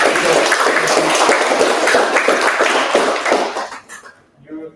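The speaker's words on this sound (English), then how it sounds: "give me a round of applause" Loud, dense audience applause at a secondary school debate contest final, steady for about four seconds before thinning into a few scattered claps as it dies out.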